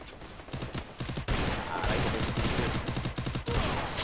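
Rapid gunfire in a Portuguese-language multiplayer shooter match, dense bursts of shots and automatic fire cracking loudly and almost continuously throughout.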